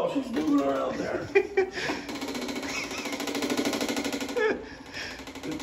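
A motorized automated roto-wipe cleaning device buzzes with a rapid, pulsing mechanical drone much like a small lawnmower, while people laugh and talk over it close by.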